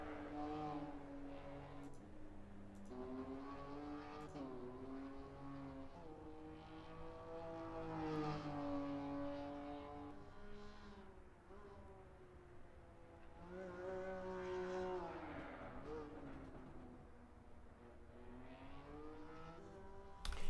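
Race car engine in the Assetto Corsa EVO racing game during power slides, a sustained droning engine whine that rises and falls with throttle and gear changes, steady and moderately loud throughout.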